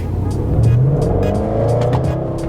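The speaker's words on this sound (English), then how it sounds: "if you really want to be able to hear the full growl of the V8" A deep V8 engine in a 2015 Range Rover Sport SVR growls loudly as it accelerates with the exhaust opened, its low rumbling note rising steadily, close and continuous.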